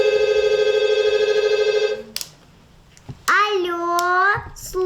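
A telephone rings in a kindergarten performance, with a steady repeating electronic ring lasting about two seconds before a voice answers and speaks.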